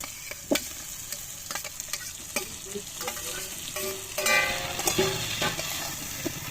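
Potatoes and eggplant frying in cooked-down spice paste, a steady close sizzle with several sharp stirring scrapes and clinks of a utensil against the pan.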